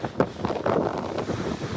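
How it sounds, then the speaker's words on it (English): Gusty wind buffets the microphone over the rolling rush of a strong incoming tide breaking nearby at the beach at Foss Park, Illinois, with no voices. "Today's a bit windy as far as you can tell. Tide's rolling in pretty strong"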